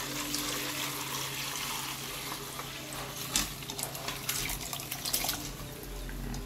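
Homemade Jamaican pineapple juice mixture pours through a strainer in a steady liquid stream, fairly quiet and close, with splashing that picks up toward the end and no talk.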